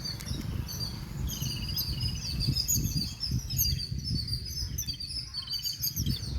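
Small sparrows chirp busily among trees, with many close, overlapping high calls over a steady low outdoor rumble.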